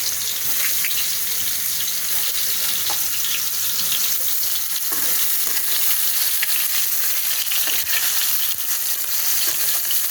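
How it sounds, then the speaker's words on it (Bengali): Soybean chunks frying in hot oil, a loud, continuous dense sizzle and crackle that stays close and unbroken throughout, with faint clinks underneath and no voices. "তেলটা গরম হয়ে গেছে, এখন আমি সোয়াবিনগুলো ভেজে নেব"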